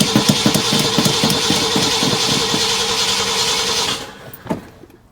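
A small engine, just primed with fuel, runs with a rough, steady mid-pitched chatter for about four seconds, then cuts out abruptly, leaving a brief knock and quiet.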